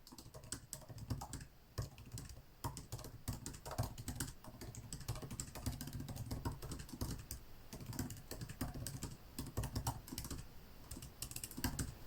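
An Apple Magic Keyboard is typed on at a quick, irregular pace, giving soft, quiet, close key taps with no voices.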